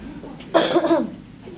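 A single person gives one short, harsh cough, close and fairly loud, in a quiet room with faint background noise before and after.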